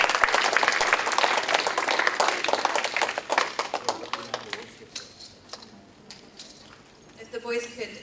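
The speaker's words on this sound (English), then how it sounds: "One round of applause," Applause and clapping fill a Cub Scout Blue and Gold banquet hall, dense and loud at first, then thinning into scattered claps with voices talking in the room.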